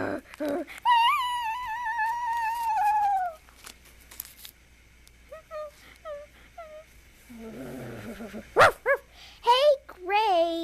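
A cartoon dog gives a drawn-out howl followed by a few short yips and then quicker bark-like bursts, with animated voices speaking in between.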